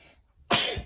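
A single close, loud sneeze bursts out suddenly after a quiet, breathy lead-in, then trails off quickly during a clay modeling session.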